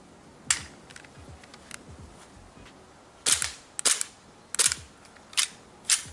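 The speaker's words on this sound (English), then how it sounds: "let's try out the Glock 33 Advanced, and we'll see if they jam up" A Glock 33 Advanced airsoft pistol fires BBs in a series of sharp, close snapping shots, one early and then a quick cluster of about six more near the end, with quiet gaps between.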